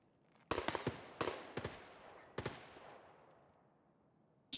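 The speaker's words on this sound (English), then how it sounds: "somebody's shooting at this building" Gunfire hits a building in Escape From Tarkov, a burst of sharp cracking impacts at mid distance, clustered in quick groups and then dying away.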